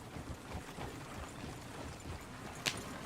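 Horse hooves clip-clopping in Red Dead Redemption 2, irregular soft thuds at moderate distance with a sharp click near the end.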